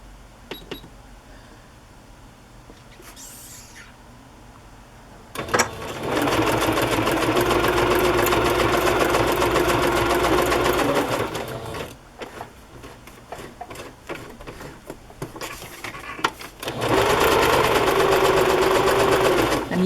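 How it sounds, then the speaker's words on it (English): An electric sewing machine runs a wide zigzag stitch through paper journal pages in two close, loud bursts of rapid mechanical clatter, about six seconds and then three seconds long. Quiet handling noises fill the gaps. "I'm using a wide zigzag so that it will catch the edges of both papers."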